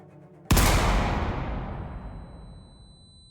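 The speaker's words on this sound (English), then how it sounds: "The sound of a gunshot echoed in our ears." A single gunshot in the visual novel game Project: Eden's Garden cracks sharply after a brief quiet lead-in, then rings out in a long, broad echoing decay that fades over about three seconds.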